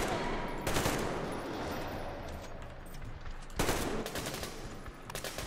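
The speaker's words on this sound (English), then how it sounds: "Oh, so now I have a machine gun." Machine gun fire in the video game Metro: Exodus, two short loud bursts over a steady rumbling background, one near the start and another about three seconds later.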